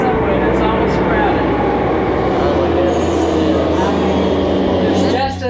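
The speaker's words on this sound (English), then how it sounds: "It's the subway." A Madrid subway train rumbles steadily and loudly in an underground station, a dense continuous roar with a low drone settling in partway through, while people talk over it.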